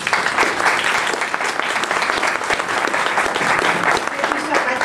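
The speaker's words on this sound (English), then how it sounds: "And let's give another round of applause for our panel." Sustained audience applause fills a town hall meeting on the Affordable Care Act, a dense, steady clapping that holds at even loudness throughout without breaks.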